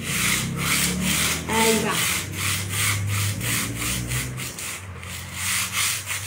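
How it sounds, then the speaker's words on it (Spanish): Sandpaper rubs vertically over a painted wooden botanical clock face with walnut stain underneath, a steady, close scratching in rhythmic back-and-forth strokes, with a few brief words spoken. "Entonces voy a lijar en forma vertical."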